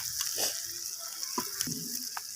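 Garlic and ginger paste sizzles in hot oil for a spicy fish curry, a constant bright hiss with occasional soft spoon knocks and bubbling pops close by, no talking.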